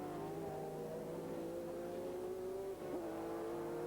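Prototype race cars at a 2001 American Le Mans Series round at Sears Point, with engines droning steadily at high pitch, one note sliding downward as a car passes into the distance.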